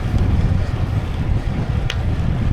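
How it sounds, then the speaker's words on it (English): Strong wind buffets a microphone while someone rides a motorcycle, making a loud, steady, roaring rumble that fills the whole moment with no letup. "I am definitely very curious to see how this is going to sound with all this wind."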